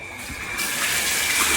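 Water rushing up through the motor line of a repaired hand pump, a steady gushing flow that swells louder partway through and continues, close and fairly loud, with no talking.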